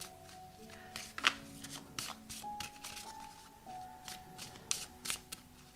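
Oracle cards being shuffled by hand, a run of soft riffling and papery slaps in irregular bursts, close and fairly quiet with no talk over it.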